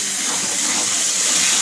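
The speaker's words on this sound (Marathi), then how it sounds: "पाणी घालूया।" Water is poured into spice masala in a pan, giving a brief, continuous rushing splash with a bright hiss, heard close and alone.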